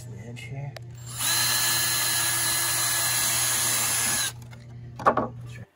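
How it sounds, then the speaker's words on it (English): A power drill whirs steadily for a few seconds as it pre-drills holes into pallet wood for shelves, then stops, followed by a brief clatter. "So with the shelves, I'm pre-drilling some holes here"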